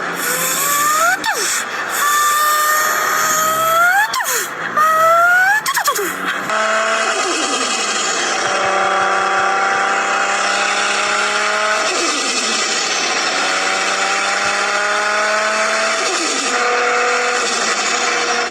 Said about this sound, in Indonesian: Ini adalah Nissan GT-R R34. Suara legendarisnya tuh kayak gini coy.